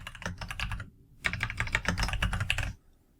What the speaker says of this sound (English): So I'll go ahead and type that out.